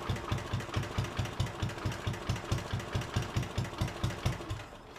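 A Bolens 1050 garden tractor engine, just started for the first time after more than 20 years of sitting, runs at a steady idle. It gives a loud, even, rapid chugging pulse throughout, with no talk.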